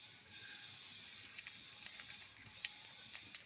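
Whole cumin, dried red chillies, bay leaves, whole garam masala and black peppercorns are tempering in hot oil, giving a faint, steady hiss with scattered small crackles and pops and no voices.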